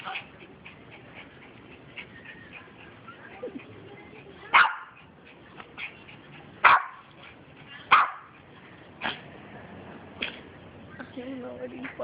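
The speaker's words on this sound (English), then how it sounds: "I don't know what he's barking at." Several loud single barks from a nearby dog ring out spaced a second or two apart over a quiet outdoor background, with softer yips and some faint talking between them.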